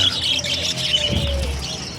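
Two pet birds chirp and squawk indoors, with a steady run of high tweets and calls under a faint low hum.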